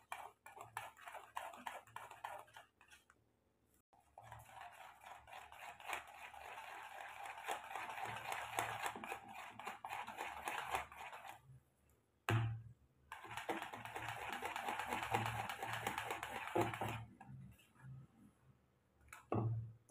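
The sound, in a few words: whisking dhokla batter by hand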